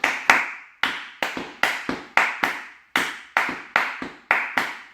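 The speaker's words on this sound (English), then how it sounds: "Now you've got reverse clave too that'd go." A reverse clave rhythm tapped by hand, a run of crisp, close, dry taps in a repeating syncopated pattern, clear and alone.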